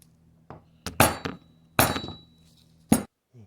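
A hammer striking a punch on an SKS rifle bolt clamped in a vise, a few sharp metallic taps at irregular intervals, close and fairly loud, with a faint ringing tone between blows.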